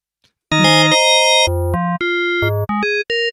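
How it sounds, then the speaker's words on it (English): The Surge XT synthesizer plays a wavetable patch as a short sequence of bright, buzzy tones at shifting pitches, one long held note followed by several quick stabs, clear and loud with no voice. "So what you hear is the wave table that it is also in."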